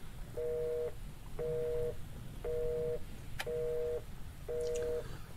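A telephone line signal in an alien abduction horror video game, a steady busy tone repeating five times in even on-off pulses about once per second, clear over a low background hum.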